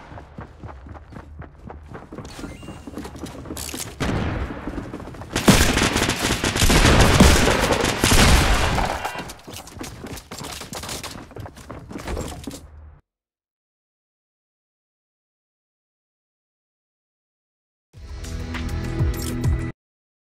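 Video game gunfire, including shotgun blasts, in rapid bursts over a dense stream of game effects. The shooting is loudest in the middle, then drops to sudden silence before a short final burst.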